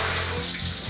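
Water from an electronic shower running steadily in a bathroom, a loud continuous spray with slight shifts in tone, no voices.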